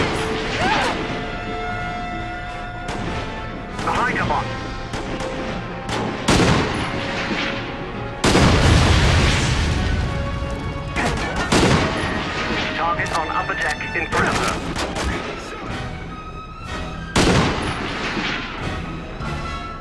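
Enemy gunfire in the Quantum of Solace video game during a barge fight, repeated loud sharp shots and bursts at irregular intervals with heavier blasts mixed in, alongside game music and occasional talk.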